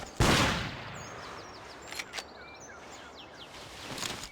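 A single loud rifle shot cracks near the start in the hunting video game Cabela's Big Game Hunter 2005, followed by faint chirping birds and a couple of quieter sharp reports later.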